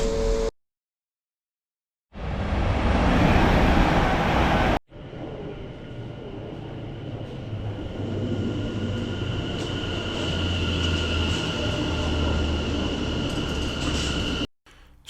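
A train rumbles steadily along the rails in Scotland toward Inverness with a low, continuous roar and faint rattling, after a brief burst of louder noise near the start.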